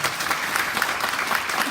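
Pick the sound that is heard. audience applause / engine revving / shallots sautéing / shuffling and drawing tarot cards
audience applause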